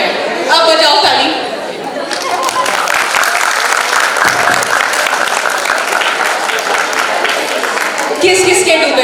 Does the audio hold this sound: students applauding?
yes